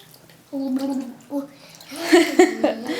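A child splashes in water at home, with brief watery bursts and bubbling sounds following a vocal tone, and voices are heard in the background.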